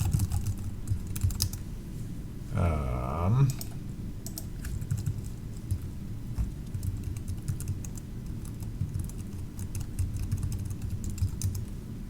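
Keys clatter on a computer keyboard as someone types, a light, close, irregular stream of clicks with a brief louder rustle partway through.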